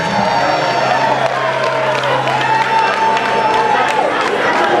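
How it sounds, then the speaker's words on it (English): Audience at a speech by the President General of Ohanaeze Ndigbo applauding and cheering, a dense sustained wash of clapping and crowd voices that stays loud throughout. "Please give him a round of applause once again."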